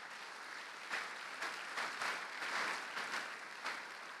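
A church congregation claps and cheers together in steady, rolling applause with a few louder swells, moderately distant and alone without speech.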